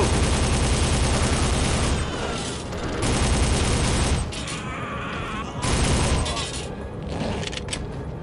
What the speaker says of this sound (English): We have our bullet sounds again.